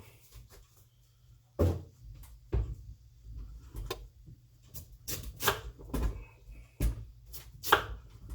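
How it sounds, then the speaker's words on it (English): A kitchen knife chops the ends off sweet potatoes on a board: several close, sharp thuds in an irregular rhythm, some landing in quick pairs. "then I'm going to chop the ends like that"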